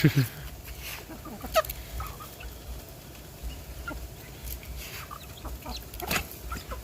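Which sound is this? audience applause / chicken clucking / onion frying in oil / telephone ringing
chicken clucking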